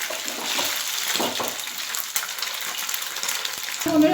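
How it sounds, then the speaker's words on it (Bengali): Paneer pieces fry in hot oil, a steady close sizzle and crackle with a brief knock midway and a clatter of the pan at the end. "পনিরটা ভাজা হয়ে গেছে এবার আমি এটা তুলে নেব"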